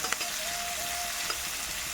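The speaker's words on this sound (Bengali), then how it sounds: "পেঁয়াজকে আমি সামান্য ভাজা করে নেব" Steady crackling sizzle of onions lightly frying in a pan, with a faint high tone running through the middle and a couple of small clinks.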